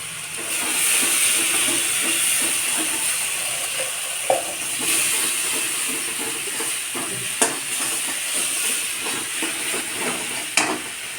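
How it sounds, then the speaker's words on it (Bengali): Masala with coriander and cumin powder sautés in a pan for a home-style egg curry, a loud, steady sizzling hiss up close with a few sharp clacks of a spatula and no talking. "মশলাটা এবার কষানো হচ্ছে।"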